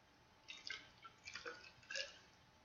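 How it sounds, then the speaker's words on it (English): Water poured into a graduated cylinder, heard as a few soft splashy trickles and drips in three brief bursts, faint against a quiet background. "Fill this with 50 milliliters of"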